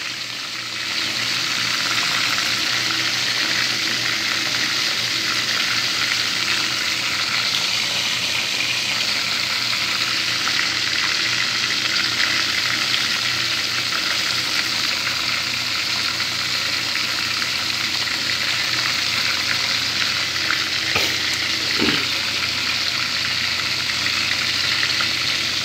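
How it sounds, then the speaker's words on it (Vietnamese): Chicken wings seasoned with a little bouillon powder fry in a pan with a steady, loud sizzle and crackle, with a few brief clicks near the end and no voices. "Mình chiên cánh gà này"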